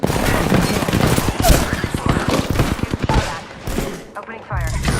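Rapid bursts of automatic gunfire in the Apex Legends shooter, loud and close, with a voice talking over the shots.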